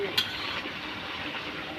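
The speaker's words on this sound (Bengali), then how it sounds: "সব সবজিগুলোকে একটু ভালোভাবে মিক্স করে" Vegetables being stirred and tossed in a pan, a soft scraping and shuffling with one brief clink near the start, fairly quiet and steady with no talking.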